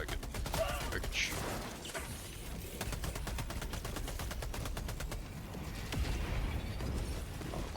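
Helldivers 2 gunfire rattles out in rapid automatic bursts, loud and close, with sharp repeated shots packed together and brief gaps between volleys.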